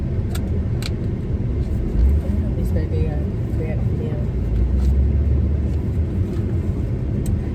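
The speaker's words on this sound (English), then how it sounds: "I really hate sitting in traffic" Road traffic rumbles around a car, a low steady engine and tyre drone with passing vehicles, while someone talks over it throughout.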